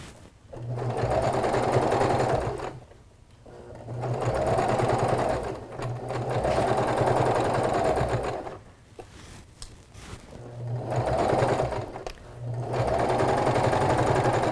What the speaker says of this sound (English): sew down this side, lining up the edge with the presser foot